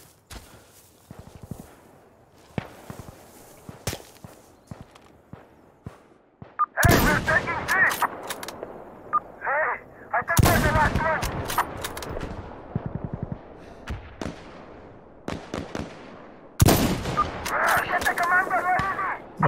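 Gunfire from the video game Insurgency: Sandstorm, with sharp single shots and bursts of varying distance, some loud and close, interspersed with quieter cracks and footsteps, under intermittent talk.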